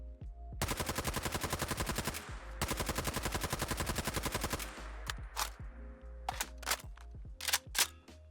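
The New Vegas LMG in a Fallout 4 mod fires two long rapid automatic bursts, loud and evenly paced, followed by a few separate clanks and handling sounds with no talking.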